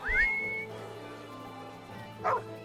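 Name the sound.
whistling for a dog in Baldur's Gate 3 video game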